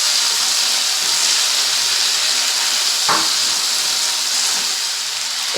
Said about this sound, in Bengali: এই টমেটো আর কাঁচা লঙ্কা, মটরশুঁটি, কালো জিরে দিয়ে কিন্তু ভালো করে আমি ভেজে নিচ্ছি।